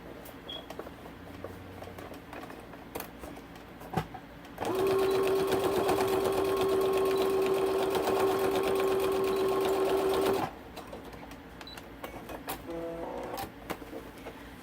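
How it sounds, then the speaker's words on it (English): Sewing machine stitching along the stretched waistband of a child's skinny long-legged pants, a steady loud mechanical whir that runs continuously for about six seconds, with quieter handling sounds before and after. "I'm going to run my stitch right here"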